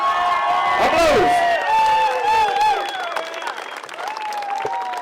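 Applause and cheering from a crowd at a rail rally event, steady broadband clapping with shouting voices and whoops over it, talk mixed in throughout.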